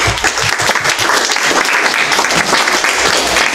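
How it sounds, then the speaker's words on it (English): Loud, dense applause from a crowd at a hackathon pitch event, steady and continuous throughout, with a few voices blending into the noise. "give them a round of applause"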